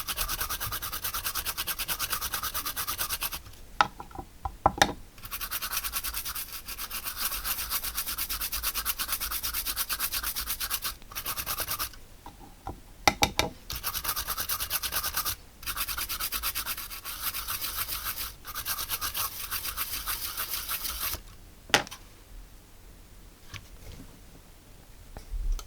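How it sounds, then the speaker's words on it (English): A brush scrubs a Pioneer DJM 850 mixer circuit board with isopropyl alcohol during a repair, close, brisk rasping strokes in long bursts broken by short pauses and a few sharp clicks. "And then we'll clean up that with some IPA."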